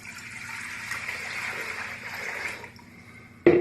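Cold water pouring steadily from a tap into a container for a kitchen brine, a continuous splashing rush that stops near the end before a brief louder clunk.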